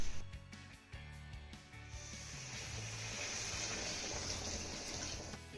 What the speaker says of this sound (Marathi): यामध्ये आपल्याला दोन ग्लास गरम पाणी घालायचं आहे